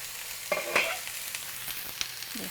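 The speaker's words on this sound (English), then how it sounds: "You should be hearing lots of cooking under that lid, and it's smelling awfully delicious." Rice cooking under a lid in a pan for fried rice gives a soft, steady sizzle with a few faint clicks and knocks, heard alone.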